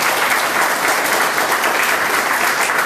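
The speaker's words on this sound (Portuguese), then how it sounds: "Não pode dar uma salva de palmas para Jesus." A church congregation applauding together, dense sustained clapping that fills the room evenly and loudly from start to end, with no other sounds standing out.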